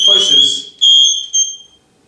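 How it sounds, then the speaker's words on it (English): An MSA G1 gas detector sounds its full alarm: a loud, piercing electronic tone in three bursts, the first overlapped by a speaking voice, then fading out near the end. "That's full alarm. I can't turn this off unless I do 2 quick pushes."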